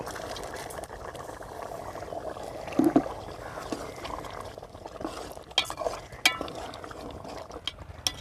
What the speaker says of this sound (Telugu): ఒక కప్పు మనం శుభ్రం చేసి ఉంచుకున్న పచ్చి జీడిపప్పుని వేసుకుని కలుపుకోవాలి